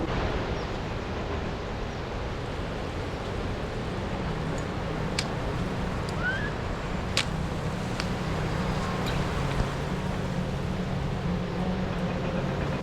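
A gushing mountain river on a Himalayan trek sends out a steady, dense roar of rushing water with no pauses, close and continuous throughout.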